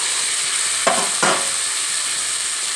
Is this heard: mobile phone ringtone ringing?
no